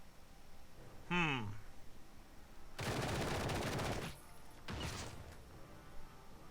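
A Beretta gun in the video game Marvel Heroes fires bursts: a rising electronic tone, then a dense rattling volley of shots lasting over a second, and a second shorter burst, at moderate level with no talk.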